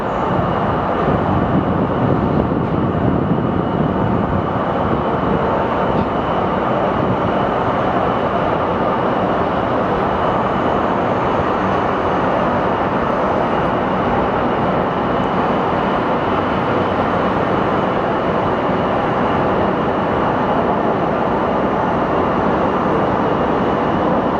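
An MD-11 jet at Phoenix Sky Harbor airport gives a loud, continuous broadband roar that holds steady, with no talk over it.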